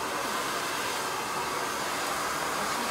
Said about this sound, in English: Go ahead, blow dry.